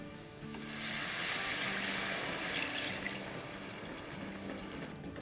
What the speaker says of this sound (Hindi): तब इसमें हम डालेंगे 3 कप दूध और दूध को डालते डालते विस्क से हिलाते जाएंगे।